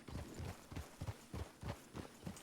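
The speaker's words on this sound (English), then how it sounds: "This is Willard's horse." Horse hooves clip-clop at a steady walking rhythm in the video game Red Dead Redemption 2 (WildRP), with about ten evenly spaced, fairly soft hoof beats and no voices.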